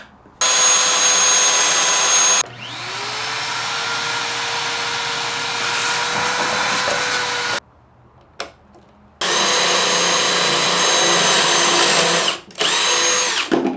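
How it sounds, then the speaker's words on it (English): A power drill whines loudly in long bursts while boring pocket holes through a pocket-hole jig, stopping and restarting with short pauses between runs, close by with no talking. "I'm now gonna go ahead and use my Craig pocket jig here to drill pocket holes."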